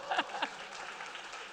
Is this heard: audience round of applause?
yes